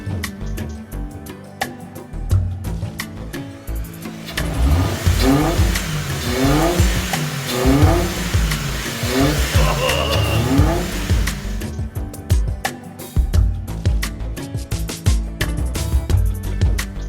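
A Ford Ka engine runs and revs while warming up after thermostat housing work, a steady close idle rising into several repeated revs in the middle before settling back, with no talk.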